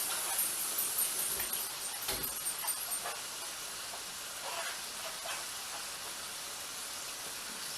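Running tap water pours steadily over a head of cabbage being rinsed in a kitchen, a continuous hiss with some brief splashy bumps near the start.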